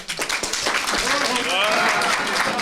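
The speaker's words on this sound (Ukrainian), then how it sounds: "ще раз оплески айтішніку рекрутеру" Audience applause at a Ukrainian stand-up improv show rises into a steady patter of clapping, with a performer talking over it.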